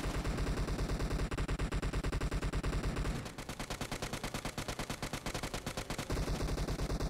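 Rapid automatic gunfire rattles in dense continuous bursts while shooting enemies in a video game, loud and relentless with a brief change in texture midway and no pauses.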